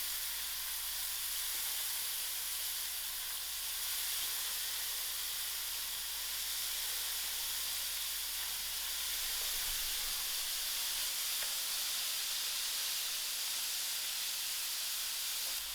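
Soaked pea dal frying in masala in a pot, a soft continuous hiss and sizzle at low, steady volume throughout, nearby and with no one talking.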